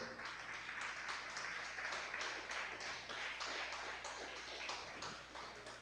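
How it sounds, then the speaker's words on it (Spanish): A church congregation gives a sustained round of applause, a fairly distant, even wash of many hands clapping with no voices on top. "Regálele un aplauso al Señor."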